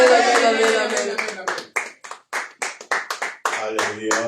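A church congregation at a French-language worship service applauds in bursts of hand claps that start under a loud sung or shouted voice and continue as fitful, uneven clapping with brief pauses.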